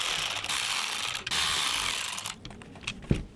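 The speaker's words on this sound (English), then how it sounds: "you got to take your T25 and we have to remove the motor" A T25 Torx driver, used like a ratchet, backs out the screws of the rear window regulator motor on a BMW E90/E91, making close, fast clicking runs that break off into a few scattered taps and a dull knock.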